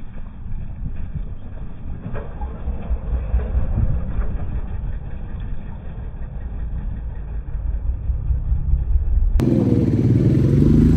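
A motorcycle rides along a mountain road on a trip from Delhi to Mukteshwar, with a steady engine drone and wind rumble close by. The engine sound swells and eases briefly before a sudden louder stretch at the end.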